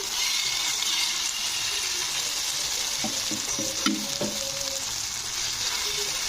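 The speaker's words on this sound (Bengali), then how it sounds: "এবারে পুরো ব্যাটারটা আমি এখানে এর মধ্যে কড়াইয়ের মধ্যে দিয়ে দেবো" Batter poured into a hot wok of oil crackles and sizzles in a steady hiss, with a few louder bursts and clinks partway through, no voices present.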